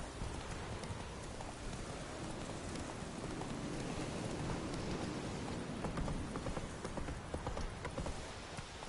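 Horse hooves clip-clop steadily at a trot in The Witcher 3, set against a constant rain-like wash of ambient noise, with no talk.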